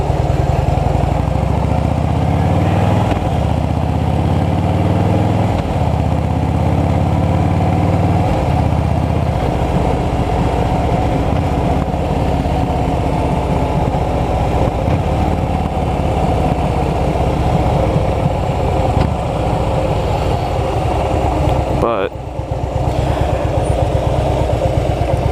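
Motorcycle engine idling steadily and blipping the throttle during clutch control and rev matching practice, a loud close rumble with gentle rises in pitch and a brief dip near the end, no talk.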